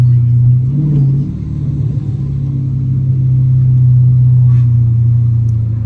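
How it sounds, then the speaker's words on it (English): A loud, low exhaust drone from a Dodge Challenger R/T hums steadily inside the car, a deep constant tone with slight rises as the engine works, voices faintly underneath. "Y'all hear my drone, y'all. It's because my exhaust too loud."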